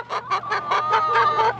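Chickens cluck in a steady run of about seven short bursts, close and fairly loud, over a faint low hum, near a corn field.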